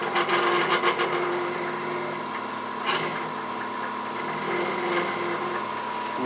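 Wooden Santa spinning on a wood lathe while a skew chisel takes shearing cuts, giving a steady loud whirring scrape with faint chatter, continuous throughout.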